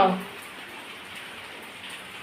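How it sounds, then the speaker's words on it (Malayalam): Steady soft hiss of light rain, with a brief voice at the very start, then an even, continuous patter. "കുഞ്ഞു മഴ നോക്കിയേ"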